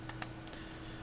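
Computer keyboard and mouse clicks: two sharp, close key taps in quick succession, then a softer click and a faint tick, against a quiet hum with no talk.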